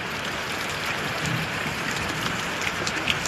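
Heavy monsoon rain pours down steadily near a cattle shed, a dense continuous hiss of drops drumming on surfaces, loud and unbroken with no speech.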